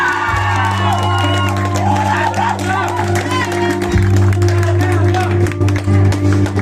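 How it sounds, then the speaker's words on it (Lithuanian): A live rock show crowd in Kaunas claps and cheers for drummer Elena, steady loud applause with whoops and shouts, while an announcer speaks over it and a sustained stage tone hums beneath. "Labai garsiai paplokite mūsų nuostabiai būgnininkiai Elenai."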